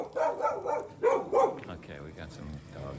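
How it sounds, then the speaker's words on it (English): Dogs bark along a mountain roadside on a motorcycle loop in Ha Giang, Vietnam, giving several clustered barks and yips at moderate distance, mixed with a voice in the background. "we got some dogs over there"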